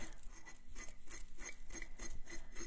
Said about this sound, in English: So I sand actually hard